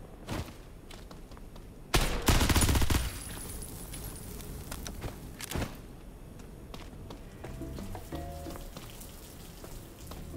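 SMG gunfire in an indie FPS game: a loud, fast burst lasting about a second early on, followed by a few isolated shots and low background game ambience.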